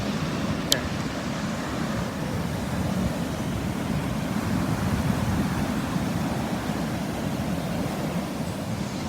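Continuous surf rolls onto a beach at sunset, a dense, even roar of breaking waves with some wind noise and no speech.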